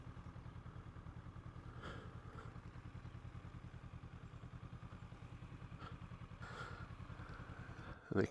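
An eclectic mix of motorcycles gathered in Rosedale, with an engine idling in a steady throbbing pulse close by, a few faint knocks and clatters over it, and a brief louder thump at the end.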